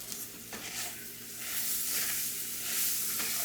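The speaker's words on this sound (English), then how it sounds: "I'm just adding a half of an onion." Half an onion frying in a hot pan, a steady hissing sizzle that swells louder as it is stirred, with a soft knock near the start, close and alone.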